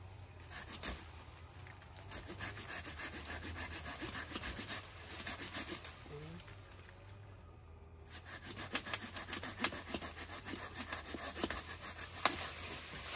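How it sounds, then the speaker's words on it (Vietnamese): A hand saw cuts off an avocado tree branch in an orchard interplanted with coffee, rasping in rapid back-and-forth strokes, with a brief pause midway and then faster strokes, fairly faint. "Rồi cưa ra cành đó mới phóng được."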